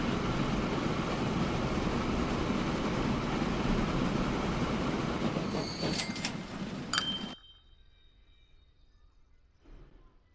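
Train pulling into a station in the transport simulation game Transport Fever: a steady broadband rumble of rolling wagons with brief high squeals near the stop, then the noise cuts off abruptly, leaving quiet ambience.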